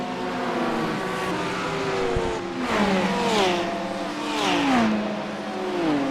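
Porsche GT3 race cars in a sim racing game roar side by side, engines climbing through rising gear sweeps and shifting repeatedly, loud and continuous with a faint tire squeal.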